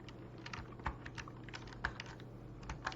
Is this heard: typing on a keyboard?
yes